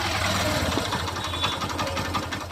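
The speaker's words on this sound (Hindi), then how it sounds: "और यहाँ पे आप इंजन की आवाज़ ज़रा सुन लीजिए।" A Hero Passion XPro motorcycle engine with white smoke and pickup problems running steadily close up, a continuous rapid mechanical chatter and buzzing drone with no pauses and no talking.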